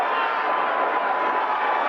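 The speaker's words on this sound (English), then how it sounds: "Now the crowd's coming alive here" A large football stadium crowd at a 1982 Giants versus Redskins game roars steadily, a dense sustained wash of cheering and shouting with no breaks.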